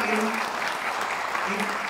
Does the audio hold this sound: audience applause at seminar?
yes